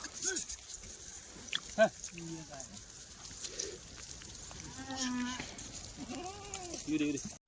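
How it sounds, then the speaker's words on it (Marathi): Pregnant goats bleat several times at close range, wavering cries scattered across the clip over a noisy barnyard background, with a person speaking intermittently. "इकडे बघा गाभणी शेळ्या आपल्या"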